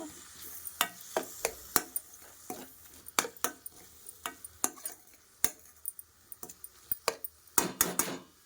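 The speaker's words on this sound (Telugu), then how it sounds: "నీట్గా ఒకసారి కొంచెం కలిపేసుకుని మూత పెట్టుకొని వేపేసుకుందాం బాగా." Tomato curry, part of a kaju makhana dish, fries in a covered pan, giving off a steady soft sizzle. Sharp clicks and taps from stirring and the lid cut through it at irregular moments, with no voices.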